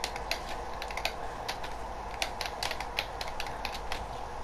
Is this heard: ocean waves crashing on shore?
no